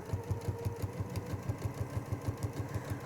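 A sewing machine stitches a rolled hem with a hemming foot, running slowly in a soft, quick, even mechanical rhythm of close needle strokes at low volume.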